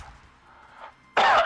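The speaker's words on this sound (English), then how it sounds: "Did he cough then?" After a quiet muffled stretch, a single short, sharp cough bursts out near the end, close and loud.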